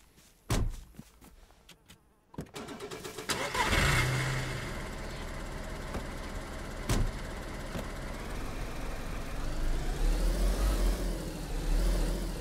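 A car in the DayZ video game, on the Deer Isle map, cranks and starts, then a steady engine drone runs on as it drives, rising and swelling toward the end, with no talk over it.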